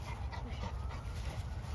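A two-year-old Cane Corso dog panting hard after a workout, quiet rapid breaths close by over a steady background hiss.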